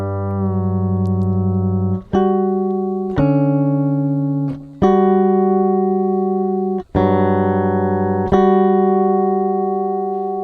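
An electric bass played through a Boss XS-1 polyshifter pedal adds octave and major-seventh harmonies, heard as sustained, buzzy layered tones held for a few seconds each, with sudden changes between notes and no voice.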